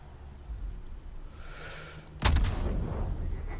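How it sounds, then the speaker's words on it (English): A single mortar firing in a video game, one sharp booming blast with a rumbling tail that follows a quieter stretch of low ambient game noise. "See that mortar over there?"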